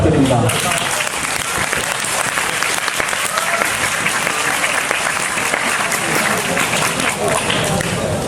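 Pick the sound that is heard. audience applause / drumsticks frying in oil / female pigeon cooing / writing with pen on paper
audience applause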